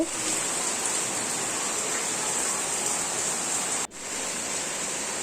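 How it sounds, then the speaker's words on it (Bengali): Light rain makes a steady, even hiss across the whole stretch, briefly cutting out for a moment near the end before resuming unchanged. "আস্তে আস্তে একটু বৃষ্টি হচ্ছিল।"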